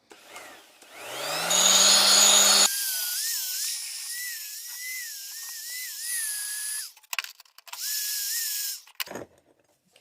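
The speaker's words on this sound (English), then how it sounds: "So the first job is to get the finger grinder in and try and grind our fingers." Finger grinder grinding metal fingers on a coupling bracket for a hydraulic lifting table, heard as a loud, steady high-pitched whine that runs in one long pass and then a shorter burst, with brief clatter between.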